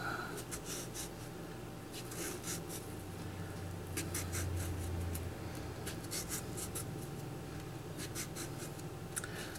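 A knife works through a cantaloupe, carving it into flower petals, with quiet, close scraping and slicing strokes in short repeated bursts over a faint background.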